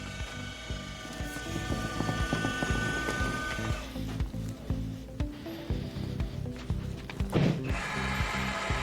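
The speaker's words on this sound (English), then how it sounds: "the Back On Trac is going to return back to the home position and bring them all the way upright" Back On Trac spinal traction machine motoring back to its home position, tilting a patient upright: a steady mechanical whirring with ratcheting, gear-like clicks, continuous and fairly close, alone without talk.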